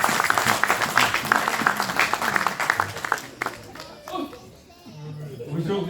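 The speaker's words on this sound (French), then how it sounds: "si vous êtes d'accord, vous acclamez le Seigneur" A church congregation at a papa convention in an EMER church applauds and cheers loudly, dense clapping and voices including children's, tapering off into quieter murmurs.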